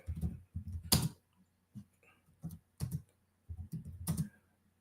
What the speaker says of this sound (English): So like I'm typing this in, bear with me.